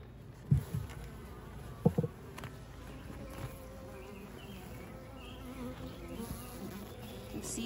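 Honeybees hum steadily during a Layens horizontal hive inspection, a low continuous drone close to the ear, punctuated early by a couple of sharp clunks of frames or tools.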